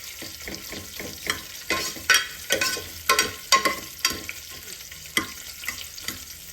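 Three sprigs of curry leaves spitting and crackling in hot oil in a pan for a chickpea kurma, a low sizzle broken by a series of sharp, irregular pops and bursts, close and without talk.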